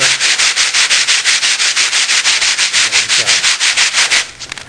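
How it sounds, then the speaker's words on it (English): A piece of wood rubbed back and forth with sandpaper in steady, rhythmic strokes, loud and close. The stroking stops shortly before the end. "a piece of wood, piece of sandpaper"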